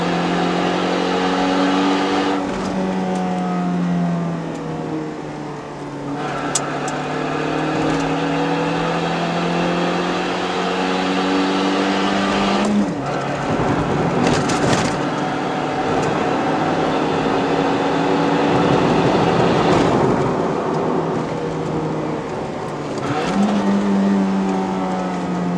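A Honda CR-Z ZF1 with a six-speed manual climbs a hill, its engine revving hard through long rising pulls with brief breaks at gear changes, loud and close from inside the cabin.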